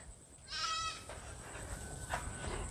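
Goats on a grassy farm let out one clear, wavering bleat at medium distance, then a fainter second call, over steady outdoor background noise.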